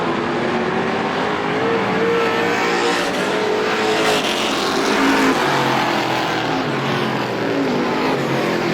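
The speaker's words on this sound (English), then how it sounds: "Here comes Austin Erickson in car number 22." Race cars roar around Star Speedway during a Strictly feature race. The engine drone is dense and continuous, rising and falling as cars pass and jostle for position, with no talk over it.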